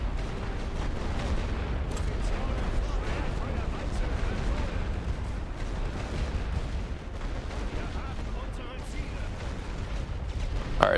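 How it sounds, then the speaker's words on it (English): An artillery barrage in The Great War: Western Front rumbles on continuously, with dense low booms and distant blasts rolling together into a heavy, unbroken wall of gunfire throughout. "let's get that artillery in"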